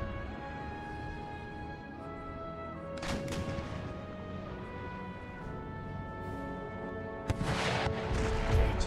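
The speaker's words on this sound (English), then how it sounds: "Canister shot. Just have them open rapid fire." Canister shot artillery firing in Empire Total War, with two sharp cannon reports several seconds apart over a steady battlefield hum and orchestral music.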